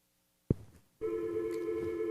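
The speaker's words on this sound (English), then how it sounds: "It's ringing." An outgoing call on a Bluetooth wireless headset setup starts with a brief click and then a steady electronic ringback tone, a single sustained tone close and clear, with no talking.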